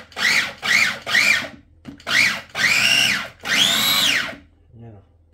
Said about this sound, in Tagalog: ngayon i-grind ko ang sibuyas para mas pino